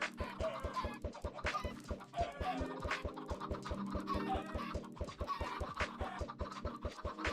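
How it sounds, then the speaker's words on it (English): Chickens in modded Minecraft give a busy run of clucks and scratchy pecking sounds, steady and close, layered over a rhythmic low thumping game track. "I love the baby chickens like running to their demise."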